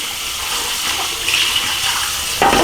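Steady rush of tap water rinsing a NuWave oven Power Dome, loud and close, with a brief splash shift as the stream hits the dome near the end.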